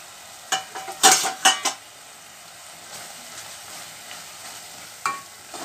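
Spice powder being sautéed with softened tomatoes in a pan for a banana flower and drumstick leaf kootu: a cluster of scraping stirs and soft sizzles early on, then quieter frying with one more stir near the end.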